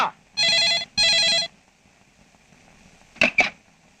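A telephone rings twice in loud, buzzy trilling bursts, followed after a pause by two short sharp clicks.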